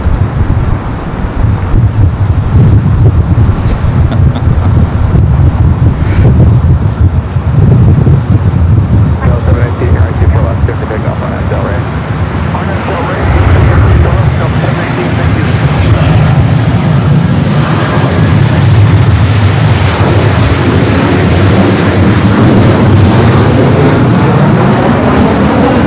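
A DHL ABX Air Boeing 767 arriving on the south side at LAX, a long rumbling jet roar that swells and fades, with wind buffeting the microphone and a voice talking at times.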